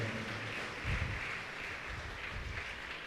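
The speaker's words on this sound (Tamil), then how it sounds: "கைத்தட்டி நாம் நன்றியை தெரிவிப்போம்" A church congregation applauds during a flag-hoisting Mass for Saint Arulanandar, producing a soft, continuous wash of many hands that sounds distant and reverberant.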